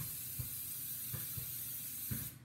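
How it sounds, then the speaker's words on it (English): Cooking spray hisses steadily into a 9x13 inch cake pan while banana cake batter waits nearby, a continuous close spray with a few soft knocks, cutting off at the end. "we're going to get out a 9x13 inch pan and just spray that pan"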